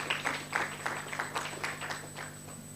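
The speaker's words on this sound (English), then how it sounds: "we should also give ourselves a round of applause for the comments and questions that have been raised" An audience at a youth work indaba gives itself a round of applause: moderately loud, steady clapping from a group, with individual claps audible in a fairly even rhythm for a few seconds.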